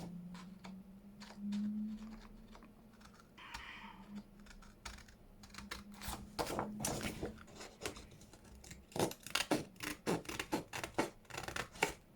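Scissors snipping through paper cut from a junk mail envelope, with many small crisp cuts and rustles, quiet at first and then quicker, closer snips toward the end, with no voices.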